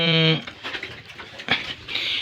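Piglets in a farm pen squeal loudly in a short burst at the start, followed by softer grunts and shuffling, then another high squeal rising near the end.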